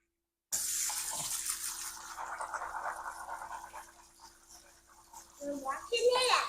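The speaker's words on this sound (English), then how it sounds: "So I'm rinsing off my almonds" Tap water runs steadily into a sink while almonds are rinsed for homemade almond milk, a soft continuous splashing with a voice and other talk over it near the end.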